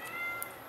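A cat meows once, a short, close, fairly loud call with a faint click near its end, in an indoor setting without talk.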